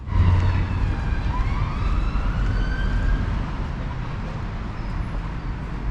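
An emergency vehicle siren wails with rising and falling tones as it passes on a Cardiff city street near City Hall, loud over steady traffic rumble, with no one speaking.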